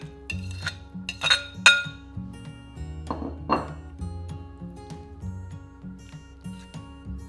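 Beef is stirred back into coconut milk in a casserole dish for a rendang curry, with a spoon clinking and scraping against the dish in irregular close knocks and taps, no voices.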